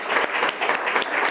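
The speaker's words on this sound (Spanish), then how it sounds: "Un aplauso." An audience gives a short burst of applause: dense, even clapping at moderate loudness with a few sharper claps standing out, lasting just over a second.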